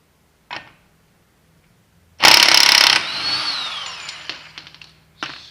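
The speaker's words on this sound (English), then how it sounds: "I'm going to use an impact to try getting it off." An impact wrench with a 32 mm socket loosens a car axle nut during a CV boot replacement, one sharp loud burst of rattling hammering followed by the nut spinning off and faint clinks, close by.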